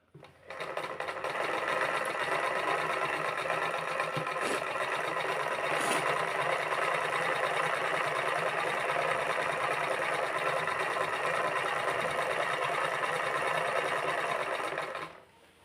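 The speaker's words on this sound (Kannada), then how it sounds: "ಇವಾಗ ಇದೇ ರೀತಿಯಾಗಿ ನಾನು ಫುಲ್ ಸ್ಟಿಚ್ನ ಹಾಕ್ತಾ ಹೋಗ್ತೀನಿ" A sewing machine runs steadily for about fifteen seconds, putting a full stitch along a saree's pico edge, its motor whir and needle clatter continuous and close with no pauses and no talking.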